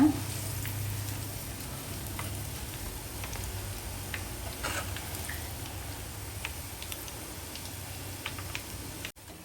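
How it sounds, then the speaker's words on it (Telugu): Pakoras deep-frying in hot oil while being stirred: a steady, soft crackling sizzle with faint scattered ticks and light clinks throughout, fairly quiet and continuous. "ఆయిల్లో పకోడీలు వేసిన తర్వాత ఇలా ఒకసారి మధ్య మధ్యలో కలుపుతూ ఉండండి"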